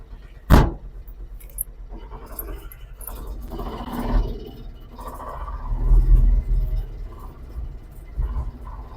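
A Piaggio Ape Xtra auto rickshaw pulls away in first gear, a low rumbling engine that swells and fades over several seconds after a sharp knock at the start.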